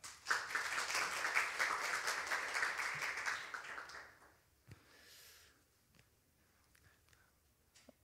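Audience applause welcoming the jury chairman at the Korea Green Architecture Awards ceremony, a dense round of clapping that tapers off after about four seconds into a quiet room with a few scattered claps and small noises.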